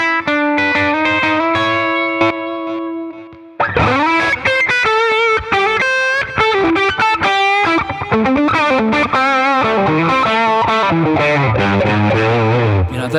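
Electric guitar played through a NERO Fuzz pedal into a Fender Deluxe Reverb amp: a sustained chord rings out, then a busy run of fuzzy, compressed single notes and phrases, loud and close with a smooth top end.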